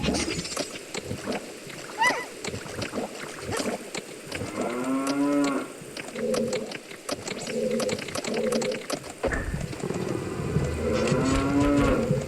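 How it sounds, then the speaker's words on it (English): Cows moo repeatedly in Zelda: Ocarina of Time 3D, a series of loud, drawn-out bovine calls rising and falling over game music and effects, with a voice talking in between. "Fucking cows."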